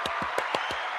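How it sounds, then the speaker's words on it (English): A few people give a short, light round of applause, about five distinct claps spaced evenly over a second, close and crisp. "little applause for Grace's hair"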